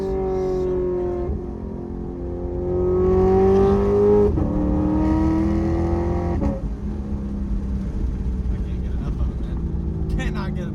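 A Lexus RC F V8 revs and pulls through the gears, a loud, rich engine note climbing in pitch, dropping at each shift, then climbing again. Heard from inside the car with no talking.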